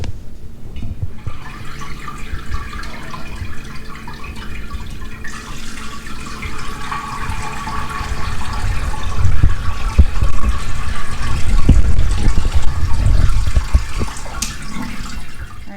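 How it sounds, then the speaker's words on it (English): Whey from raw milk cheese drains steadily through cheesecloth into a pot, a continuous splashing trickle that grows louder and fuller partway through. "so we can drain the rest of this cheese so we can keep the whey"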